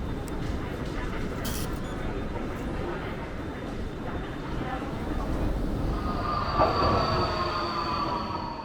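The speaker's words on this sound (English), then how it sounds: "I'm gonna attempt to take the metro back to the other side, right?" A Budapest Metro train rolls along the track with a steady heavy rumble, then brakes and wheels squeal loudly near the end, with voices faintly under the noise.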